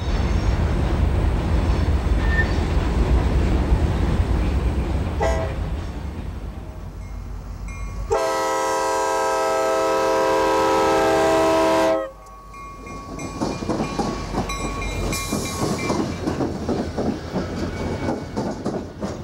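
CSX train 0802 pulls up to Aiken Junction in Florida's Bone Valley, rumbling and clattering over the rails before a loud, sustained multi-tone horn blast of about four seconds, then the rolling train noise resumes with another brief horn note.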